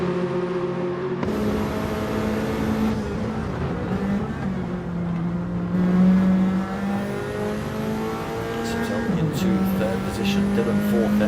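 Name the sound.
Nissan race car racing in GTTCC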